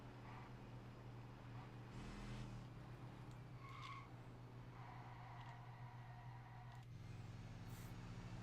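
Engine drone from a fast car driven in Test Drive Unlimited Solar Crown, a steady low rumble with brief tyre squeals and gear shifts, faint and distant throughout.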